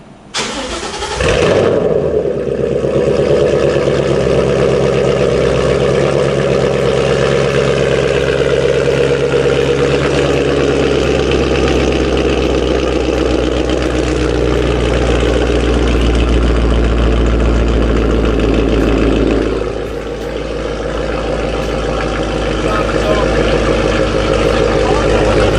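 A Ford Mustang 5.0 V8 engine with a catless ROUSH axle-back exhaust rumbles steadily at idle, deep and loud, with a brief dip near the end before settling back into its low throaty drone.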